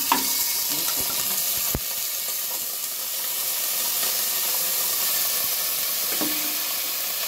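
Marinated mutton keema sautéing in hot mustard oil with spices and green cardamom, a loud, continuous sizzle and hiss with a few sharp stirring clicks near the start and middle.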